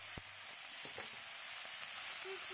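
Steady sizzling hiss of vegetables frying in an Indian tadka of hot spiced oil, with a few soft clinks and stirring taps over the continuous crackle.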